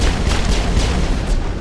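A grenade going off in a video game, a loud, dense rumbling blast that fills the whole moment without letting up.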